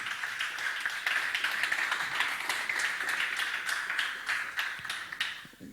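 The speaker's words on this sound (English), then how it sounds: "Give yourselves a round of applause for being here." Lecture audience applauding together, a steady patter of many hands clapping with scattered sharper claps, moderately loud and sustained before tapering off at the end.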